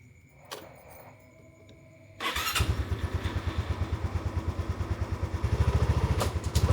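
A motorbike engine catches after a quiet lead-in and then runs close by, throbbing steadily as the ride begins.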